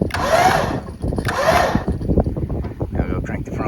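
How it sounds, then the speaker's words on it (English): A tire inflator airs up a car tire with a loud, close, steady motorized drone that pulses slightly and continues throughout. "You can set the pressure that you want it to be, and it'll air up until it reaches that pressure"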